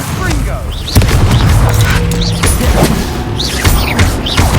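Incendio fire spell cast during a Hogwarts Legacy battle, heard as repeated booming whooshes and blasts with impacts amid game music and combat noise, while a person talks over it.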